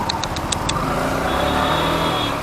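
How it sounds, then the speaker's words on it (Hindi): Busy road traffic at Tribune Chowk, heard from a Yamaha motorcycle: a constant loud wash of engines and tyres, with a quick series of high beeping tones early on and no talking. "ट्रिब्यून चौक पे क्या ट्रैफिक है।"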